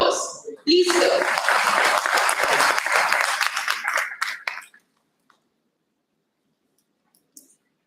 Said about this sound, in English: help me in inviting Dr. Vikram Singh, sir, with a huge round of applause.